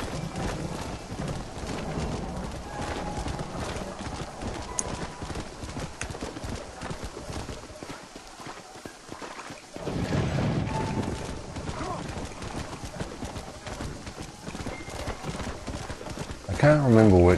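Rhythmic clip-clop of horse hooves in Red Dead Redemption runs steadily throughout, with a brief near-silent gap midway, while game music and a talking voice sit over it.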